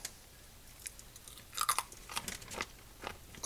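Someone chews homemade cherry chocolate almond granola up close, quiet crisp crunches coming in irregular bursts with no talk.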